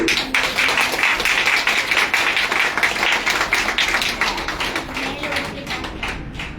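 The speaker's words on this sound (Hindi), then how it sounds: "एक बार उनका आभार व्यक्त कीजिए, जोरदार तालियों के लिए" A seated audience at a business success talk claps for seniors and sponsors, a loud, sustained patter of hands that tapers slightly toward the end.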